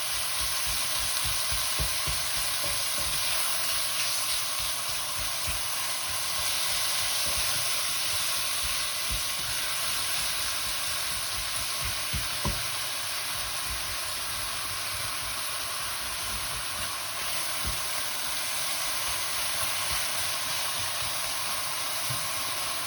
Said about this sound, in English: we will just leave the bacon now to start cooking through